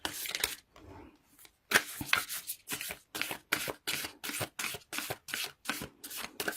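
A Whispers of Love Oracle card deck is shuffled by hand, making a run of crisp, papery riffling bursts in a steady rhythm, close and distinct after a brief pause.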